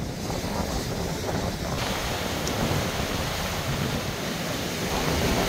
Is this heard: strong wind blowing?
yes